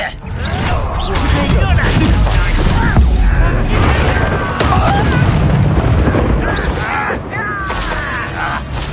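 Explosive Confringo spell blasts in Hogwarts Legacy, repeated booms and crackling bursts packed into a loud, continuous battle din with spoken spell incantations layered over the combat.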